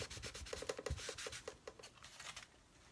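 Wet baby wipe rubbing paint stain onto a wooden Easter chick, a close, steady run of quick scrubbing strokes with soft rasping friction and no talking.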